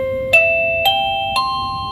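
Three ascending electronic chime tones ring from a PLACUY 2K wireless video doorbell set to a slightly lower volume, clean and evenly spaced with short decays in a quiet room.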